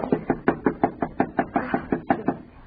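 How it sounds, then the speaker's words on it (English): Knuckles rap on a door about a dozen times in a brisk, even series of sharp, close knocks, heard alone without any voices in a radio drama scene. "Knock harder, Alice. Knock harder."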